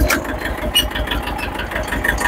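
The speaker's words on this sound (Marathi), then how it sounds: "इकडे आता मी येतोय ट्रॅक्टर घेऊन" A small farm tractor runs close by with a rhythmic, chugging engine putter, steady and moderately loud throughout.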